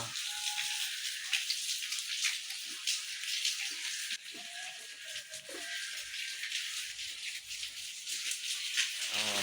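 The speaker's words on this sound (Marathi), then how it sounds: "पावसाच्या धारा" Streams of monsoon rain fall steadily in Maharashtra, a continuous bright hiss of water with scattered drips and brief faint voices underneath.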